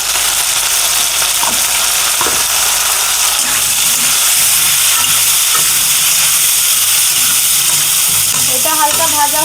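Vegetables frying in oil for a homestyle vegetarian khichuri, a steady dense sizzle running throughout with occasional stirring scrapes and a voice speaking briefly near the end.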